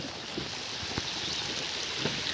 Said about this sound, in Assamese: এতিয়া আপোনালোকে চাওক কি পৰিমাণে বৰষুণ হৈ আছে